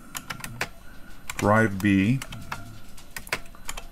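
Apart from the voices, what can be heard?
typing on a computer keyboard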